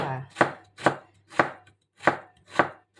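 A knife chops through a quarter of a very large watermelon rind six times at an even, unhurried pace, each stroke a sharp, close thunk against the board.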